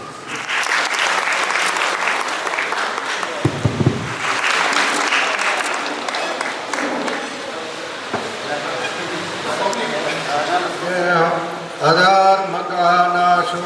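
A crowd claps loudly and steadily at the grand opening of Shree Vihal International Vidyapith, applause running through the whole stretch with a brief low thump near the middle and a voice rising near the end.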